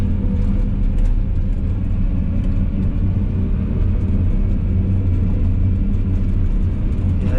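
A car drives along with a loud, constant engine and road rumble heard from inside, broken by occasional small knocks and rattles.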